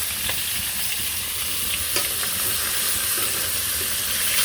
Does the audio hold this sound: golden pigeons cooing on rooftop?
no